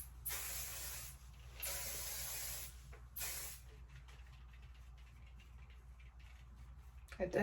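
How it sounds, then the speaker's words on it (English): Hairspray aerosol sprayed onto freshly curled hair, close by: three bursts of hissing spray, the first two long and the third shorter, then quiet room tone with a faint rustle at the end. "I'm gonna spray it with the hairspray."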